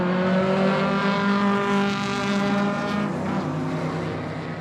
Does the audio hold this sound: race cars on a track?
yes